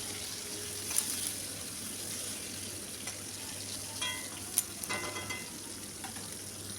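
Bitter gourd coated in salt and turmeric fries in hot oil in a home kitchen, giving a steady low sizzle with a few sharper pops and clinks of stirring. No one speaks.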